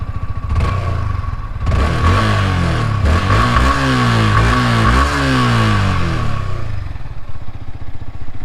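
A Yamaha R15 V4 sport motorcycle engine is revved up from idle several times, its pitch climbing and falling in loud repeated sweeps before settling back to a rapid idle beat, heard up close with no talking.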